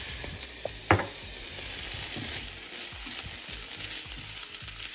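Rice with minced garlic, sriracha and soy sauce sizzles in a hot pan, with a steady frying hiss and soft repeated scrapes and clicks of stirring, one sharper knock near the start.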